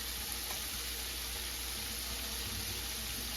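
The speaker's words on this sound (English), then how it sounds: "this is kind of like deep frying them" Steady, dense sizzling and crackling of chicken deep frying in hot oil, constant and close, with no breaks throughout.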